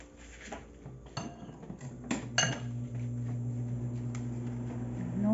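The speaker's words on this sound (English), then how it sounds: "you have to mix the cheese and the crabs well" Cheese and crab meat being mixed in a bowl for crab-shrimp rangoon filling, with scattered clinks and scrapes of a utensil against the dish over a steady low kitchen hum.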